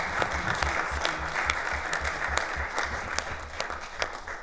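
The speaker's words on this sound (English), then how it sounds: "perhaps we could just give them a round of applause." A crowd applauds steadily for several seconds at a borough council meeting, a dense, even patter of many hands at moderate distance.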